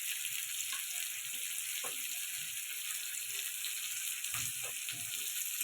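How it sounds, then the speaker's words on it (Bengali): Moong dal masala with cumin powder sautés in a pan, giving a steady, faint hissing sizzle with a few soft stirring scrapes. "সুন্দর করে এটা কষিয়ে নেব।"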